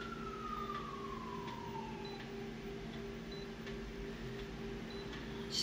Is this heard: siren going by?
yes